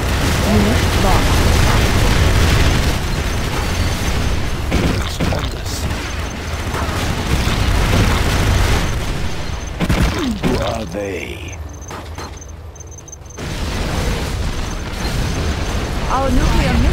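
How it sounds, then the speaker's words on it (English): Nuclear missile launch and explosion in C&C Generals, a dense, continuous roaring rumble with crashing debris that thins out briefly before surging back, loud and close, with a voice speaking over it. "We have launched our nuclear missile"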